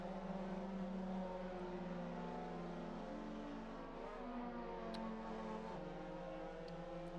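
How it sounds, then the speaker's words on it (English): A sim racing game car, apparently a Mazda MX-5 in a race series, drones and revs steadily through its gears, a continuous engine tone under faint distant race noise. "And putting the foot down now is James."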